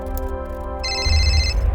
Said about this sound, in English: looks like our phone is ringing